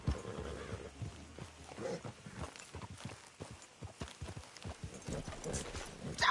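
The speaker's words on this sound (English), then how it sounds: "Damn horse acting up on me." Hooves of a horse in Red Dead Redemption 2 clip-clop in a steady walking rhythm after a race, fairly soft and close, with no talk over them.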